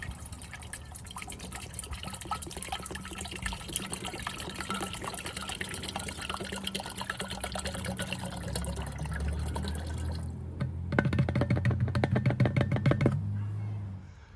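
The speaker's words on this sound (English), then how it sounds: "I'm just going to go ahead and fill this tank." New brake fluid is poured into a Motive power bleeder tank in a steady, close trickling stream that continues for several seconds, then deepens in pitch as the tank fills toward the end.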